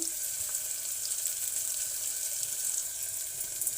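A soft, steady hiss and crackle of tempering spices frying in hot oil, faint and continuous, with no voices.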